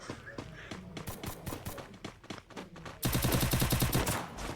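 Gunfire in the Free Fire battle royale game, starting as scattered shots and then becoming a loud, rapid automatic burst of evenly spaced cracks in the last second and a half.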